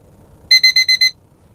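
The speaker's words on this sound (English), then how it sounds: "The alarm is working." An alarm beeps in a quick run of five bright, evenly spaced electronic pulses, loud and close, then stops, leaving only faint background hum.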